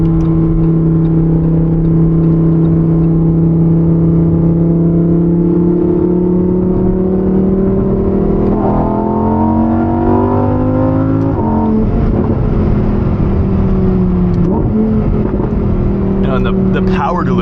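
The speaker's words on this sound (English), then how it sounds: "I find myself short shifting most of the time, especially in Corsa, just because how loud this car is" A Lamborghini Huracan Evo Spyder drives at about 4,000 RPM, its engine a loud, close, droning tone that climbs steadily, shifts mid-way, then pulls again, while someone talks over it.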